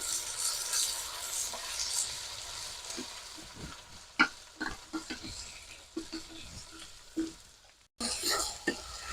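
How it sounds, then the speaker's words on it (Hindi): Onion frying with garlic in a pan over a wood fire in a village kitchen, a faint steady sizzle with scattered stirring clicks and scrapes nearby. "प्याज को हम थोड़ा भूज लेंगे"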